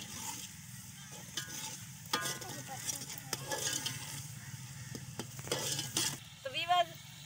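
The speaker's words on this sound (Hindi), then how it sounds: "हमने मिसालों को तड़का लगा दिया है" Spices for a village-style biryani sizzle in hot oil in a pan outdoors, a quiet steady frying crackle broken by repeated stirring scrapes and clinks of a spoon.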